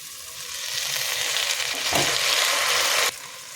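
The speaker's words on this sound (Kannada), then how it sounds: "ಇವಾಗ ನಾವು ತೊಳೆದಿಟ್ಕೊಂಡಿರುವಂತಹ ಗೋಧಿ ನುಚ್ಚು ಮತ್ತು ಹೆಸರು ಬೇಳೆ ಹಾಕ್ಕೊಂಡು ಮತ್ತೆ 2 ನಿಮಿಷಗಳ ಕಾಲ ಹುರಿಬೇಕಾಗತ್ತೆ" Broken wheat and moong dal with vegetables fry in hot oil, giving a close, continuous sizzle that swells briefly as the mix is stirred, then drops off abruptly.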